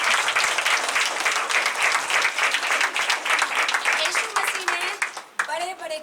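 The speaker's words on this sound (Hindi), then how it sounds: "ताली बजाएंगे।" Church congregation clapping hands together during worship, dense continuous applause throughout with voices and a singing or speaking voice mixed in near the end.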